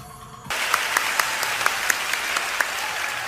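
Audience applause breaks out in a theater during a stage play, dense clapping starting abruptly and continuing steadily with a few sharper individual claps standing out.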